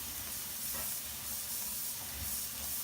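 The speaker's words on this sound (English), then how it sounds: "Now, I'm going to rinse these beans" Tap water runs steadily over canned beans being rinsed for white bean chicken chili, a continuous bright hiss and spray held close without pause for a few seconds.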